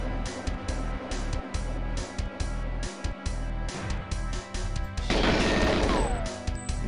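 Rhythmic gunshots from GoldenEye 007 fired at alarms, a rapid regular string of loud bursts, followed by a crashing impact and a falling tone as one is destroyed.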